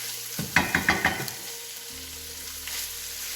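Bacon and chorizo cooking in a pan for Goan chorizo, with a quick run of four or five close scraping taps from stirring, then a low, steady background sizzle.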